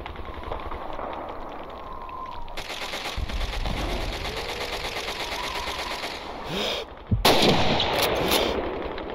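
A sniper rifle shot in the World War II game Call of Duty 2, set amid gunfire around City Hall: a sudden loud crack cutting through rattling background battle noise near the end.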